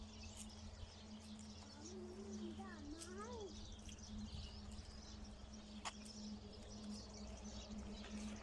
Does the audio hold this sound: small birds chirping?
yes